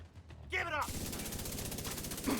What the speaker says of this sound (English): Targeted with suppressive fire.